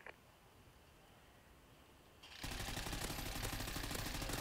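Gunfire in the shooter Call of Duty: Ghosts breaks out after a quiet stretch of faint background noise, a sudden loud, dense crackle of shots that keeps going to the end without letting up.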